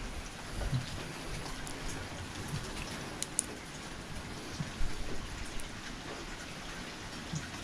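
Quarter-size hail pours down steadily in a hailstorm, a dense, even clatter of stones striking surfaces with occasional sharper knocks standing out against the continuous roar.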